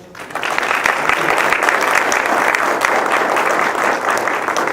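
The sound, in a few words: round of applause for Neil stepping down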